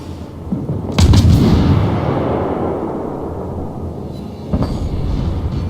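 Naval guns on a British cruiser firing in the game World of Warships, two loud booming salvos about three seconds apart, each followed by a long rolling rumble, with no voices.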